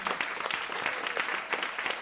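A short burst of audience applause for a host venue at a food waste climate event, with a mid-sized crowd clapping evenly and individual hand claps distinct, with no talking over it.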